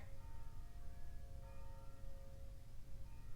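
Distant church bells ring faintly, a few slow strikes with lingering tones over a low rumbling background.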